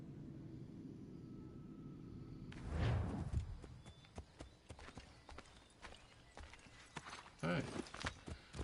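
Horse hooves clip-clop in Assassin's Creed III Remastered, a quiet rumbling start giving way to irregular hoof thuds and footfalls, moderately close, with a few louder bursts near the end.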